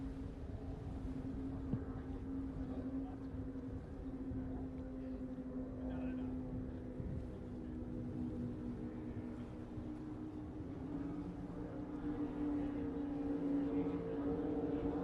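An offshore Supercat racing powerboat on Lake Macquarie drones steadily at a distance, a sustained engine hum running beneath a commentator's ongoing talk.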